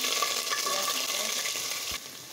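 Ginger paste frying in hot oil with whole spices and salt for pulao, a steady close, bright sizzle that holds throughout and eases off slightly near the end.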